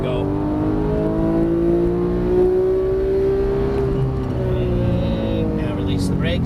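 A Porsche 991 GT3 accelerates on a race track, its engine droning loudly from inside the cabin with rising and falling tones as it pulls, while an instructor's voice talks over it.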